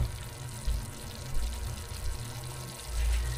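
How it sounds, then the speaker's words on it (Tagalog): A little water pours into a cooking sauce, a soft, steady trickle heard up close and fairly quiet, with low rumbles underneath and no talking. "Tapos lagyan natin ng konting tubig."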